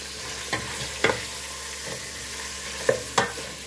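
Chicken thighs sautéing in hot oil for a Cypriot dish with kolokasi, a steady sizzle with a few sharp spatula scrapes and clicks spaced through it, close by, with no talking.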